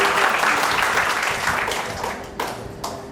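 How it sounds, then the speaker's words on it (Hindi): Enthusiastic applause from a crowd at a school Valmiki Jayanti celebration for Shikha Prajapati, the first-place winner, starting strong and gradually thinning toward the end with a few last scattered claps. "जोरदार तालियां शिखा के लिए, जोरदार तालियां"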